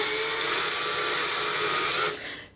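A drill bores holes in an acrylic sheet, slowly to keep the plastic from cracking, giving a loud, steady high-pitched whine that holds for about two seconds and then cuts off abruptly into quiet.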